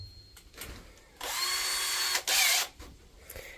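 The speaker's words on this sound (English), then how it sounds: "it's my job to go around and drill holes through all of these and put screws in" Power drill boring holes through boards on a 20-year-old deck being renovated, two sustained whining bursts of the motor loading up under the bit, close and loud, with quieter handling noises before and after.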